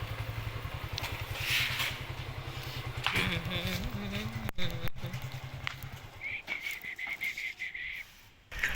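A motorcycle is ridden at night, its engine droning steadily up close with a pulsing low rumble, brief gaps and some wind noise, and faint voices now and then.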